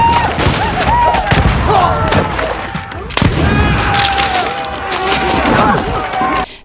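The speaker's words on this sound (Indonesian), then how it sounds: "Suara tembakan mulai menggema di seluruh hutan." Gunfire in a forest during an 1820 frontier clash, with sharp reports cracking at irregular intervals and echoing, dense and loud, while voices cry out underneath.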